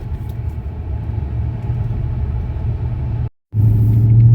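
Tuned family car engine pulling under throttle, a loud steady low rumble from inside the cabin that cuts out abruptly for a moment, then returns with a stronger tone.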